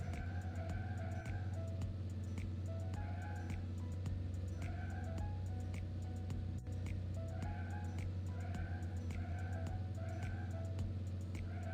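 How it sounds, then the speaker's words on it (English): Truck driving in the children's game Little Panda's Life, heard as a steady, continuous game engine hum with looping bright electronic tones and soft ticking layered over it, loud and unbroken throughout. "Drive the truck to deliver goods."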